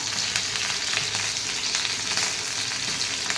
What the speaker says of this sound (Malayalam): തിരിച്ചിട്ട് കൊടുക്കണം തിരിച്ചും കൂടെ ഇട്ട് നമുക്ക് ഫ്രൈ ചെയ്തെടുക്കണം